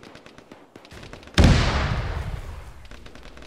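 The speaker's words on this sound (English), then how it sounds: "I have to assume those explosions are friendly" A sudden loud explosion in the Arma military shooter, played as a ShackTac session, bursts in after scattered faint pops and rolls off into a long decaying rumble.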